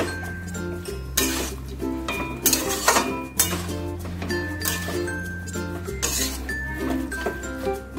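A metal utensil clinks and scrapes against a mixing bowl while water is stirred in, loud irregular ringing taps with short pauses, close up and without talk.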